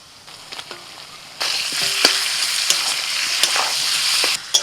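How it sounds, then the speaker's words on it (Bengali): Large chicken pieces fry with browned onions in a pan, a quiet crackle that jumps to a loud, continuous close sizzle, with scattered stirring clicks and scrapes. "পেঁয়াজের সাথে চিকেনটাকে এবার মিনিট 5 ভেজে নেব"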